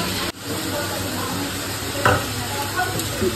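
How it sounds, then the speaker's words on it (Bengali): Onions frying in a pan, a steady close sizzle with a few stirring scrapes and utensil clicks throughout. "পেঁয়াজগুলো ভাজা হোক।"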